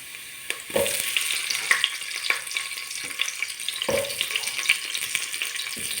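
Onions hitting a hot pan after ginger for chicken tinola, crackling and sizzling steadily up close, with periodic knocks and scrapes of a utensil stirring through the fry.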